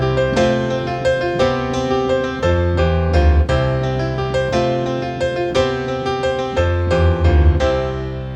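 Solo piano plays the hook of a song in tempo, arpeggiating up and walking down the bass line from F, full and steady with rhythmic chords over a rolling low end, no voices.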